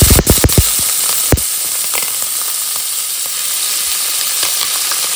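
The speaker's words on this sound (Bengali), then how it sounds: "এখানে তেল গরম হয়ে গেছে, দিয়ে দিলাম একটুখানি কালো জিরে আর 2টো শুকনো লঙ্কা।" Nigella seeds and two dried red chillies hitting hot oil in a home kitchen, giving a loud burst of crackling pops at the start that settles into a steady, close sizzle with a few sharp spatters.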